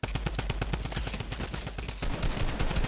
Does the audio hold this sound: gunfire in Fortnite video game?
yes